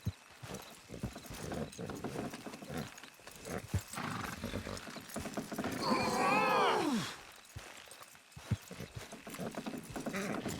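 Horse hooves clopping in a steady rhythm as horses pull a wagon in the video game Red Dead Redemption II, with a horse's whinny rising in the middle.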